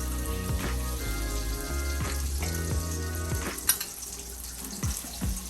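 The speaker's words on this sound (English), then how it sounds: "in a preheated pan, I just threw my stick of butter into the pan. And I'm just going to completely melt that down" A stick of butter sizzles and crackles steadily as it melts in a preheated pan, with a continuous close frying hiss and occasional small pops.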